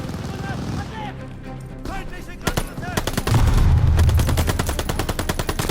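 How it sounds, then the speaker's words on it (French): Machine gun fire in the World War II shooter game Call of Duty Vanguard: loud rapid bursts of automatic gunfire building to a sustained barrage, with voices shouting over the start. "Faut s'occuper de cette mitrailleuse."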